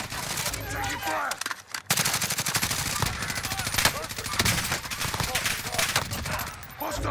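Rapid bursts of automatic gunfire and sustained machine-gun fire in the video game Call of Duty: Modern Warfare, loud and nearly continuous throughout with brief pauses, a voice heard faintly among the shots.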